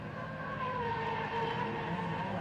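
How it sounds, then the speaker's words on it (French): Drift car at the French Drift Championship at Croix En Ternois, its engine droning and revving steadily through a run, heard from a distance at low volume with no talk. "Un très beau bruit en tout cas sa voiture."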